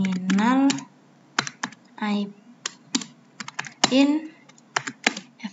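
Keystrokes on a computer keyboard entering a config terminal command in a network device CLI, scattered clicks in short clusters mixed with a person talking.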